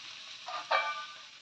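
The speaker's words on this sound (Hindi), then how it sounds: "नमक डाल के इसको भी और भूनना है, हमारी सारी सब्जियां थोड़ी अच्छे से फ्राई हो जाए" Vegetables frying in a pan with salt added for a veg pulao, a soft steady sizzle with a brief louder burst of crackle partway through, heard alone without talk.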